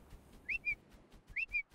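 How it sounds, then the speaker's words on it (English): A player character whistles in ARK: Survival Evolved to command a griffin to follow, two quick paired rising-then-steady whistle notes, clear and alone. "I was whistling, follow all the way through and he was perfectly fine"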